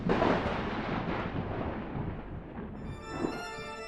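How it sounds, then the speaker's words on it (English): Heavy thunder rumbles through a storm, a dense, rolling low roar that swells at the start and then fades, with a fresh swell near the end and a faint tonal layer sitting over the tail. "Thunder constantly rumbles, and secrets hide deep within the earth."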